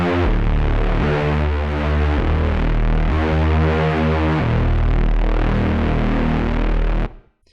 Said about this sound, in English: It's a Reese bass and it's perfect for breakdowns and it sounds like this.